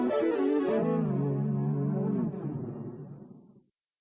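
Distorted electric guitar run through a TC Electronic G Major effects unit with pitch shifting, a thick, harmonically rich sustained tone with layered shifted pitches that holds steady, then decays and cuts off near the end.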